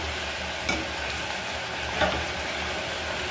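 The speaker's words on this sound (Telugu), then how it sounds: "ఇప్పుడు ఇది తాలింపు వేసేసుకోవాలండి." Hot oil tempering for an amaranth leaf and moong dal curry crackles in a steady, close sizzle, broken by two brief sharper pops or spoon clinks.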